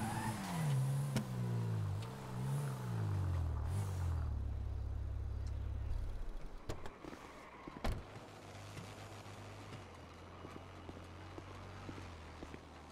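A car driving in the video game GTA, with a low engine drone and a steady rumble that shifts in pitch, a sharp thud partway through, and continuous game ambience throughout.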